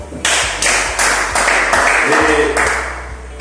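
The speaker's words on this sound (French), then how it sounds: "Applaudissez encore pour vous." A seminar audience at a sales talk applauds in a dense, continuous wash of clapping. A steady rhythmic beat of music pulses underneath the whole time.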